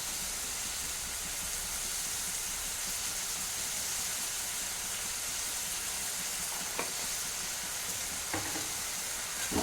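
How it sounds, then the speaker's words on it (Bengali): Spice paste with turmeric and cumin powder frying in a pan with a splash of water for a loitta fish curry, a steady dense sizzle throughout with a few brief clinks of stirring near the end. "এবার আমি মশলাটা খুব ভালো করে কষিয়ে নেব।"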